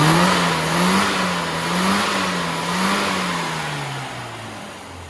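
A car engine fitted with a new carburetor and a modified needle revs steadily and loudly up close, its pitch rising and falling in smooth waves with a constant whirring drone underneath.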